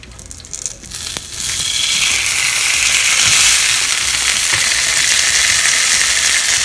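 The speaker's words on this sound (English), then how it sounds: "I'm going to add 2 tablespoons of oil on a skillet and add this fish." A stuffed pomfret fish lands in hot oil in a skillet, breaking into a loud, steady hiss of sizzling frying that swells after a brief clatter and holds continuously close up.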